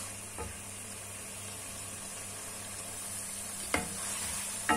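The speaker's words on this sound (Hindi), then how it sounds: "अब इसको मैं फ्राई करूंगी 5 से 7 मिनट।" Chicken frying in a pan for a chicken, potato and spinach curry, a steady quiet sizzle running throughout with a couple of brief stirring clatters, no talk.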